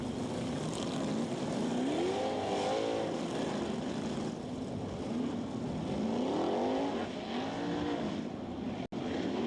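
Sprint cars circle the dirt oval at Knoxville Raceway, their engines droning and rising and falling in pitch as they pass at a distance, heard alone without talk.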